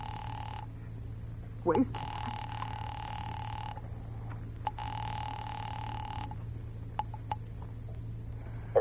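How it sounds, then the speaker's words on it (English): An old-style telephone ringing through to a police department in a radio drama, two long bell rings repeating with a pause between, steady and moderately loud over a low hum, with a brief clatter and a short spoken word in between. "Ringing the police department."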